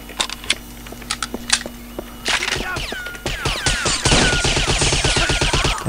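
Bursts of gunfire in the video game James Bond 007: NightFire crack out, first scattered single shots, then rapid sustained automatic fire with ringing echoes, loud and close.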